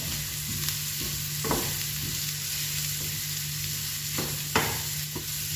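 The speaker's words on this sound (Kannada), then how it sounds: "ಬೆಳ್ಳುಳ್ಳಿ ಸೇರಿಸ್ತದೆ ನಾಲ್ಕು ಸಲ ಫ್ರೈ ಮಾಡ್ಕೋಬೇಕು" Chopped garlic frying in a pan of oil while cooking sardine pulimunchi, a steady close hiss of sizzling with occasional spoon scrapes and clacks as it is stirred.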